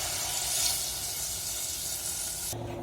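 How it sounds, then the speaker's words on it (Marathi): A glass of water pours steadily with a hissing, sizzling rush into a hot pot of vegetable khichdi, then cuts off abruptly near the end. "हा एक ग्लास आहे पाण्याचा तो मी सगळा टाकेल"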